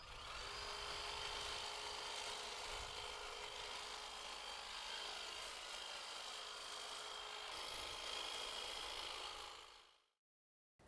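Cobra 24V cordless hedge trimmer cutting a hedge, a continuous buzzing, rasping chatter of blades held for about ten seconds before cutting off abruptly into silence.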